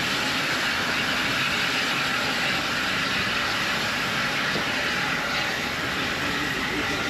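A steam train runs on the Gloucestershire Warwickshire heritage railway, hauled by two locomotives including number 48 the King. It is heard as a steady, loud rumble of rolling carriages with no breaks, with no voices.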